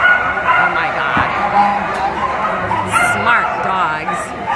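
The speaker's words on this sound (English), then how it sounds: "Smart dogs." Dogs at an equestrian center yip, whimper and bark excitedly amid a busy crowd, with people talking nearby over the sharp dog sounds.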